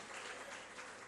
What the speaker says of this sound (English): Minister Patel is supposed to clap a bit harder